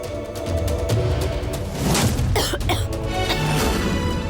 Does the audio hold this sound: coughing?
yes